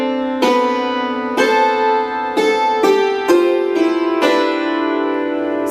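Measures 40 and 41 of Bach's Jesu, Joy of Man's Desiring are played on a piano, with a series of full, ringing notes and chords in an even flowing rhythm, close and clear without any voices.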